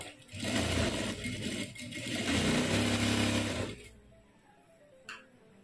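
Domestic sewing machine stitching a seam on a princess-cut blouse, a close, rapid mechanical whir running in short bursts before stopping, followed by a quiet click.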